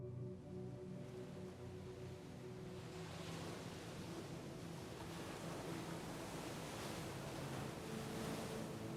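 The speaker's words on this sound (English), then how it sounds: "Hear the sound of the waves." Ocean waves wash steadily on a sunny shore, a soft continuous surf rush with gentle swells and faint wind, no voices.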